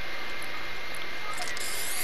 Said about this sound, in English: let's put down the spray real quick.